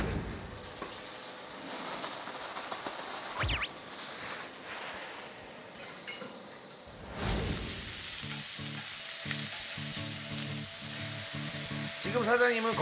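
Steak sizzles as it fries in an oiled pan, starting as a quieter crackle under faint background noise and then swelling to a loud, steady hiss and spatter when the meat goes down.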